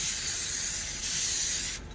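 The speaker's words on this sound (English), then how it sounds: "I'm going to spray the pan." Cooking spray hisses continuously onto a pan for almost two seconds close by, then cuts off abruptly.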